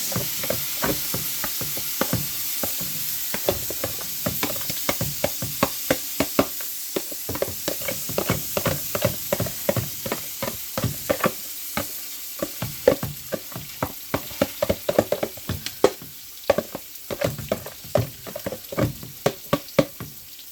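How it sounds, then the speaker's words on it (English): Chopped carrots, corn and frozen celery sauté in a pan, a constant loud sizzle broken by repeated scraping and knocking of a utensil stirring against the pan, with no talk. "And I'm just going to saute this for about 5 minutes."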